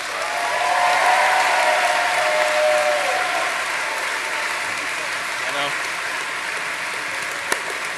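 A large crowd at a high school graduation commencement applauds the class valedictorian, loud and continuous throughout. Cheering and voices rise over the clapping near the start before settling into steady applause.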